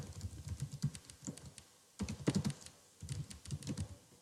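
Close, quick keystrokes on a computer keyboard as a search is typed, three short bursts of clicking separated by brief pauses.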